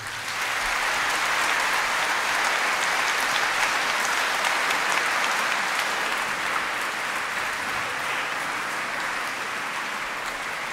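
A concert audience applauds an amateur wind orchestra at a festival, steady dense clapping that fills the space for around ten seconds, loud and sustained with no voices.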